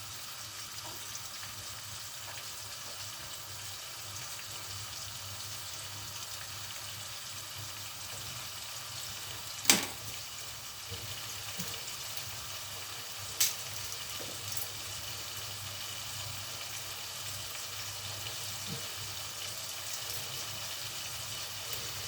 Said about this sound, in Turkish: bu yemek kaynıyor bu tencere